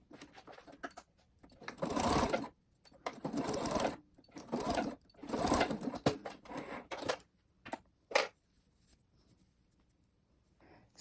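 A sewing machine stitches elastic onto slippers in several quick bursts of rapid mechanical whirring separated by pauses, close up and without talk.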